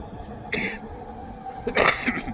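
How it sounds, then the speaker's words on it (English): Two or three short, harsh coughs from one nearby person riding a bike along a seawall, spaced apart against faint outdoor background noise. "Got a bad cough."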